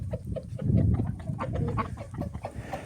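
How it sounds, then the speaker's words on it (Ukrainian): Ducks chatter and quack in a busy farmyard cluster, with overlapping calls close by and no talking. "Такі ось у нас качки."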